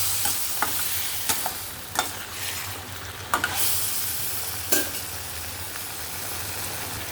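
Brinjal, tomato and potato curry being stirred in a pan, a steady soft sizzle of frying under scattered scraping taps of a spoon against the pan, with a low steady hum beneath.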